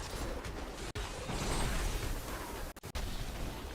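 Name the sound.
explosions and whirlwind sounds in the video game Diablo 3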